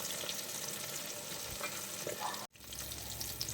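Chicken pieces frying in a pan with a steady, dense sizzle and crackle close by, broken by a brief dropout near the end before the frying resumes.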